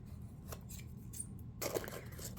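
A few quiet snips of scissors cutting, faint and close against a low background hum, with a slightly louder cut near the end.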